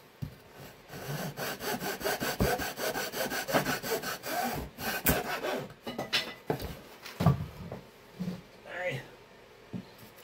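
A hand saw cuts through a wooden RC model airplane aileron to trim it to length, giving steady, close rhythmic rasping strokes that slow and break up toward the end.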